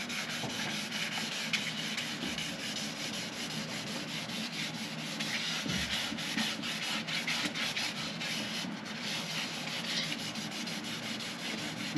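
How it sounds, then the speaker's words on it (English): Light wet sanding of clear-coat paint on a Kawasaki Ninja 650R motorcycle part gives a continuous, soft, even rubbing and scratching that carries on without pause, with no voices. "I'm just going to hit it with some light wet sanding and just see if we can knock out some of the roughness"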